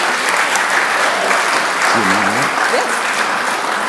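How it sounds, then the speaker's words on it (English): Loud, steady applause from the audience at a community summit, a dense continuous roar of clapping with a couple of brief voices and cheers breaking through midway. "let's just give ourselves a round of applause for doing all that this morning"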